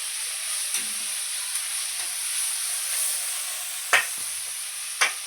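Onions sauté in a hot pan with a steady, bright frying hiss, broken by a couple of brief spatula scrapes and stirs.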